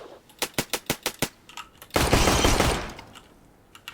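An AK rifle in Counter-Strike fires a quick burst of about seven evenly spaced shots, then a sustained loud blast of noise that fades out, followed by a few light clicks.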